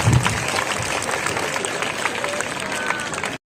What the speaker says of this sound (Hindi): जो आज जोरदार ताली होना चाहिए